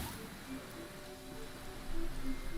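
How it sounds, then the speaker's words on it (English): Rain falls in the video game Genshin Impact, a steady soft hiss of rainfall with faint tonal game sounds underneath, swelling slightly toward the end, with no talk. "It always rains when I go on an adventure."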